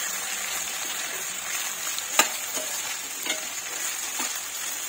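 Okra pieces frying in oil over a medium gas flame, a steady soft sizzle with a few faint clicks and stirs.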